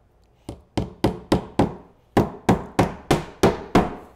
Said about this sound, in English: nailing every 2 to 3 inches on center